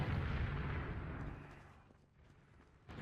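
Rocket explosions rumble in a competitive Team Fortress 2 sixes match, a dense low booming wash that fades midway before another blast swells at the end, with no talk over it.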